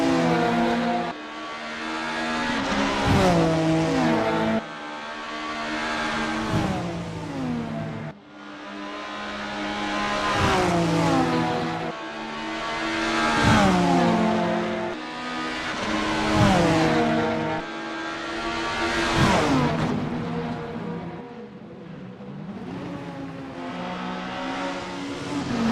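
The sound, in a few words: 90s BTCC super tourer race car on practice lap, video game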